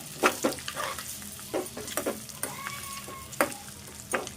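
Egg dish frying in oil with coriander powder in a pan, a steady close sizzle with repeated stirring scrapes and clinks throughout, no talking.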